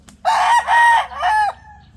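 A Boston Roundhead stag rooster crows loudly and close by, one full crow in three drawn-out segments that trail off into quiet.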